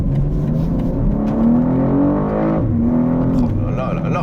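A BMW M2 G87 engine revs and pulls hard, its tone climbing, dipping on a shift and climbing again, close and loud beneath a man's speech.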